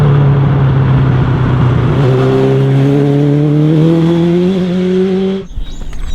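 A Light Car Company Rocket accelerates hard, its engine note rising loud and close through the gears with a strained, climbing whine before cutting off abruptly.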